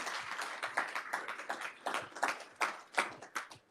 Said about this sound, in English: Yes, big applause.